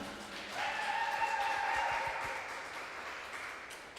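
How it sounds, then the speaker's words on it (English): Scattered audience applause for the American Baroque Opera rises after a half-second and holds as a steady, fairly distant wash of clapping, fading slightly toward the end. "Let's hear a round of applause for the American Baroque Opera."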